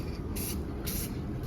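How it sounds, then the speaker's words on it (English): Aerosol spray paint can hissing in two short bursts about half a second each as the can sweeps back and forth, with a steady low rumble of room noise underneath. "Now when you're spray painting, you go back and forth with the can."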